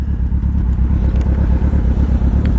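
Suzuki Hayabusa motorcycle engine running hard at high RPM on a test ride, a loud, steady low rumble with a continuous droning roar and faint clattery crackle, no voices.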